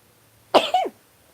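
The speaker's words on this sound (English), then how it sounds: "I'm gonna sneeze." A single sneeze, close and fairly loud, a sharp voiced burst lasting under half a second that breaks a quiet pause.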